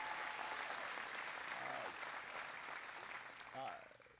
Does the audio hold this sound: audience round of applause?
yes